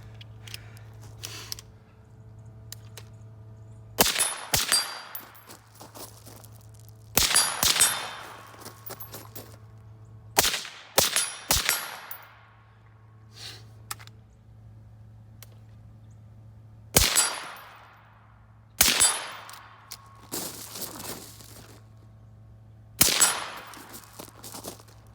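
Suppressed rifle shots through a Surefire SOCOM 556 Monster suppressor, single sharp reports with ringing metallic tails spaced several seconds apart, about eight in all, over a low steady outdoor hum.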